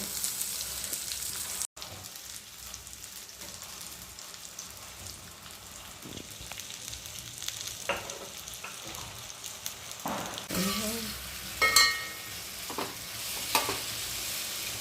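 Mango pieces coated with turmeric and salt are stirred in a pan for pickle, giving a soft, continuous sizzle with intermittent scraping and stirring sounds nearby.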